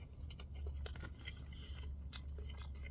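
Close, quiet chewing of a messy burger with bacon, lettuce, tomato and mayo, with soft crunchy bites and wet mouth sounds repeating over a low steady hum.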